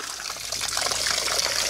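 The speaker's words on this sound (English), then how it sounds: "water will always flow through the leaves" Water runs steadily through a gutter filter covered with leaves, a close, constant trickling wash with no voices.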